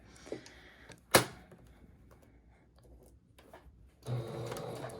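A sewing machine works on a thrifted dress with a sharp knock, then quiet handling, then a fresh burst of rapid, close stitching whir at the end.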